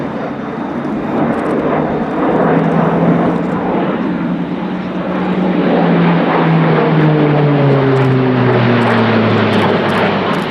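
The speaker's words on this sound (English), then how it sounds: "Quite a fast aircraft given the size and the fact that it is nevertheless a turboprop aircraft." An Airbus A400M Atlas turboprop flying at the RIAT 2016 airshow, giving a loud, steady propeller and engine roar whose pitch slides downward as it passes, heard alone with no talk.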